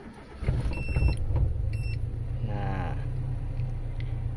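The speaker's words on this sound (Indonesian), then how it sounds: "Kita hidupin mesin mobil guys ya." Engine of a Toyota Kijang Super car starting and then idling steadily, a low continuous rumble with a brief rising whine from the starter, heard close with no talking.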